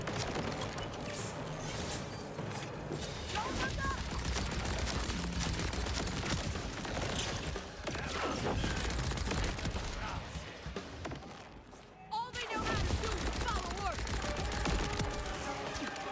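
Legendary Ripper SMG firing in Borderlands 4: dense, sustained bursts of rapid automatic gunfire layered with explosions and game effects, nearly continuous with a brief lull before resuming loudly.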